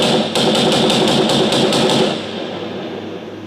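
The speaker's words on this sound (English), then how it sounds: "So we have one machine gun," Rapid bursts of machine gun fire, a layered sound effect, rattle loudly and steadily for about two seconds before trailing into a softer echoing tail.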